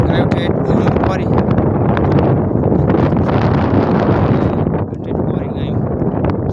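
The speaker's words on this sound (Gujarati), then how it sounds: "નકરો પવન બહુ" Strong wind roars and buffets the microphone outdoors while cows are given water, making a loud, continuous broadband rumble that eases slightly near the end, with a muffled voice partly buried beneath it.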